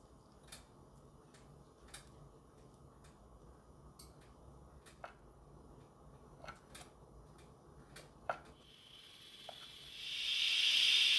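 A stovetop pressure cooker steams rice cake while its weight rocks, giving scattered faint ticks over a low hiss that swells into a strong, loud steam hiss at the end.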